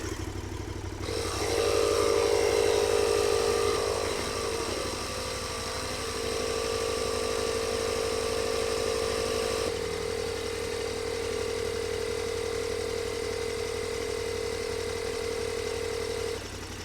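A Bonaire dual-power 12-volt tire inflator buzzes loudly and continuously alongside an idling motorcycle engine, a steady droning mix with a strong tonal whine that shifts slightly midway.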